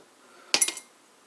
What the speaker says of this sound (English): First thing you gotta do is you put the ice cubes into